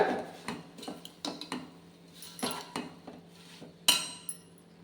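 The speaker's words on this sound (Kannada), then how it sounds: "ಇದನ್ನು ನೀಟಾಗಿ ಫ್ರೈ ಮಾಡ್ಕೊಳ್ಳೋಣ." Fresh fenugreek leaves being fried and stirred in a pan for a fenugreek rice dish, with a series of close metallic scrapes and clinks from the spoon against the pan at an irregular pace and no speech.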